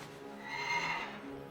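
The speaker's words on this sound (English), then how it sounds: "That's Ravendare's horse" A horse in World of Warcraft gives a single drawn-out whinny, fairly soft and rising then fading over about a second, with no talk.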